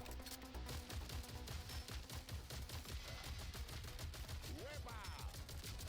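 Rapid automatic gunfire from a weapon ability in the Marvel Rivals video game, a dense stream of fast repeating shots with game effects and a brief rising whoosh near the end, fairly faint overall.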